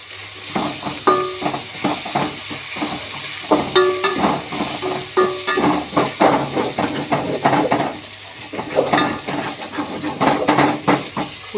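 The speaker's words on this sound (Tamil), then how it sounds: "வெங்காயம் போட்டிருக்கேன் அடுத்து தக்காளி போட்டுடலாம் தக்காளி போட்டேன்" Tomatoes go into onions frying in a pan for potato kurma, giving a steady sizzle with repeated spatula scrapes and metallic clinks against the pan, close and rhythmic.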